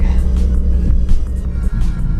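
A Cadillac car driving past on a neighbourhood street, its low engine rumble steady and fairly loud for a couple of seconds.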